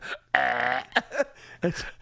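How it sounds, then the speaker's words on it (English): A long, loud, resonant burp, followed by a few short throaty vocal sounds. "and you just burped."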